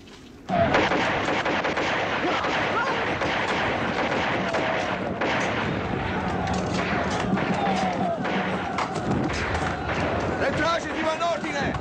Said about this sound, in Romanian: Parcă se aud împușcături în stânga.